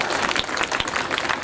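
Clapping from an audience at a poetry recital in Kharial Road, Odisha, a brief burst of dense, fairly loud applause with no one speaking.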